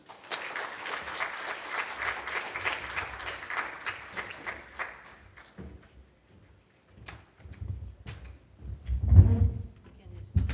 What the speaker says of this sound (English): Let us all give a warm round of applause for Mr. Shiko Komatsu.